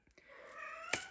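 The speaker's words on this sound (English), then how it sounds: "that's my cat. She is in heat." A female cat in heat gives a drawn-out, rising meow that swells into a louder, strained cry near the end, close by and clear.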